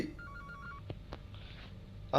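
An in-game telephone rings in the horror game The Baby In Yellow, a brief electronic ring tone followed by a few soft clicks and thumps, with faint background hum.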